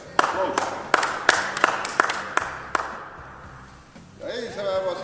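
Enthusiastic applause for a prize draw winner at a school health-week raffle: a burst of sharp, rhythmic hand claps from a small group, fading out as a voice begins speaking.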